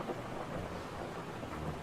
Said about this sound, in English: those rain effects, they're pretty cool